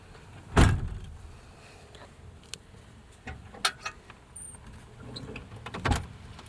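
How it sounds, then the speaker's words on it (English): A Toyota Land Cruiser Troop Carrier door thuds shut with one loud, close impact, followed by lighter clicks, rattles and a final softer knock. "Got that door closed still because it's so freaking freezing."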